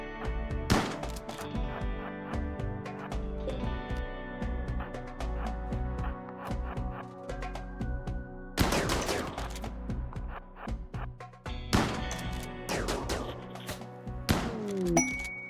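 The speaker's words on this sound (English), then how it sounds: "Yes, shoot at Gideon" Gunfire in the RimWorld video game during a fight in a debris-strewn facility, several sharp shot bursts and impacts over a steady game music bed, moderately loud with quieter stretches between volleys.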